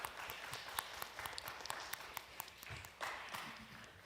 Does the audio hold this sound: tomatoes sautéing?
no